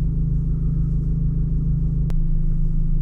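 A Ford Ranger Raptor drives and slides around a muddy off-road track, heard as a steady low engine rumble from some distance with a brief sharp click partway through.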